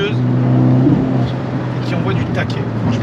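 Tuned Abarth with a Stage 3+ setup driving along, a steady low engine drone with road rumble filling the cabin at a constant, fairly loud level, with speech heard over it.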